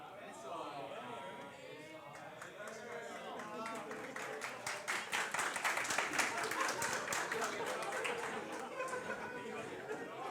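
Audience applause and clapping from a conference crowd at a programming talk, rising to a dense burst of many hands through the middle and easing off toward the end, with crowd chatter and voices mixed in throughout.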